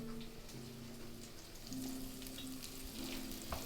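A steak dropped into a hot pan for a steak-with-sauce dinner sizzles steadily and fairly loudly, a continuous crackling fry with no voices over it.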